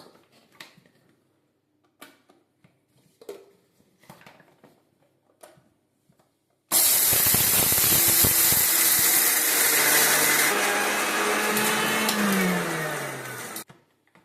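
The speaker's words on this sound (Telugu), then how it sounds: "వీటన్నిటిని మిక్సీ జార్లో వేసేసి మిక్సీ పట్టుకున్నాము" A few quiet clicks and knocks, then a mixer grinder roars on loudly, whirs steadily for several seconds with shifting pitch, and cuts off.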